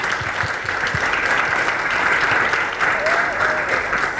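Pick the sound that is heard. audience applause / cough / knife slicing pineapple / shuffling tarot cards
audience applause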